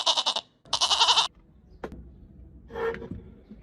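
A goat bleats in two loud, wavering calls close by, followed by a faint click and a softer, shorter bleat at the end.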